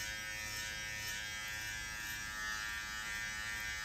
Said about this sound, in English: Here's a quick preview of how the trimmers sound when turned on.